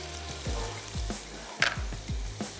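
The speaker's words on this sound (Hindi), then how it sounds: "सौते करते हैं इतना कि चिकन कुक हो जाए" Capsicum and chicken strips sautéing in a pan for Mexican rice, a steady frying sizzle close by, broken by regular spatula scrapes and one sharp clatter, with soft background music running underneath and no talking.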